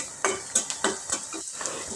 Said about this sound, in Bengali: পেঁয়াজ কুচি আর কাঁচামরিচগুলো এখন আমি তেলের মধ্যে হালকা ভেজে নিব